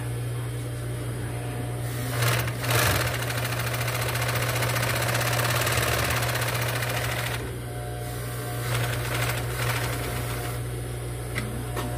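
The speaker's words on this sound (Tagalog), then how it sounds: "maandar naman yung motor." An electric motor on an old Kansai piping machine runs with a steady mechanical hum and whir, with a loud rattling burst near the start and another stretch later, no voices.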